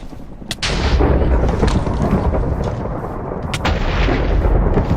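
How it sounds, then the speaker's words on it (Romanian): Rolling thunder in a Hunger Games video game, a loud, sustained low rumble that persists for the whole span, with sharper cracks near the start and again later. "Ce de tunetul ăsta?"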